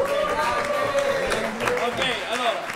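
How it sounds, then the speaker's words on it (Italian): Audience applause and crowd noise at a live concert, greeting a guest performer; a steady, dense wash of clapping with murmured voices mixed in. "gli facciamo un applauso"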